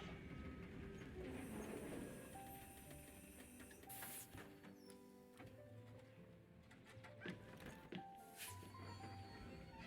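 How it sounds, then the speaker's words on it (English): A tram arrives in the video game Syberia: The World Before, with mechanical clanking, rhythmic ticking and rolling rail sounds and a few sharp hisses, fairly quiet throughout. "And here comes the tram."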